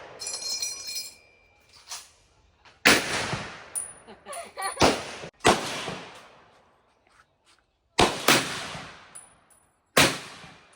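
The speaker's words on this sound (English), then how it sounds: "We are now at the shooting range." Loud, close gunshots ring out at a shooting range in Vietnam, with about six sharp single reports spaced a second or two apart, each followed by a decaying echo, and faint metallic clinks between shots.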